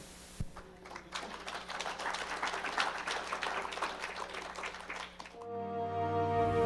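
A crowd claps steadily for several seconds, a dense wash of hands that fades out near the end, giving way to a low hum.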